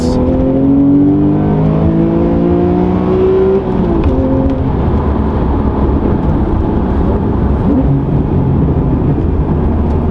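A Porsche Targa engine revving hard in Sport Plus mode with automatic rev matching, loud and close, its rising and falling tones sweeping up through the gears in a continuous singing roar.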